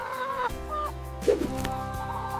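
Hill chickens on a farm cluck and call up close in a short run of rising, squawky notes over steady background noise.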